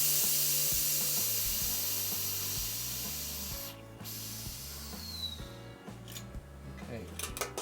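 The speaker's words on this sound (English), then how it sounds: "I'm just going to purge the CO2" CO2 gas is purged from a beer keg of Copper Wyre Ale in a loud, steady hiss that slowly fades over several seconds, with light background music underneath and a few small knocks after it stops.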